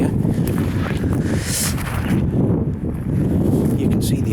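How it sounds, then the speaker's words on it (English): Gusty wind buffets the microphone at a castle earthworks site on a working farm, a low, rumbling roar that swells and eases over a few seconds. "It's getting a bit windy here."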